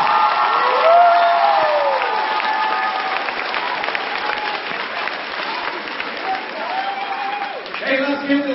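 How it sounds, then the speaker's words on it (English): Sustained applause and crowd noise with a few whoops at a middle school end-of-quarter celebration, while a voice talks over it and a brief musical tone comes at the end. "let's give this group a big round of applause."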